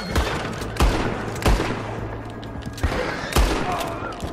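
Gunfire in Red Dead Redemption 2: four or five loud, heavy shots spaced about a second apart, each booming and ringing out over a low rumbling background, with no talking.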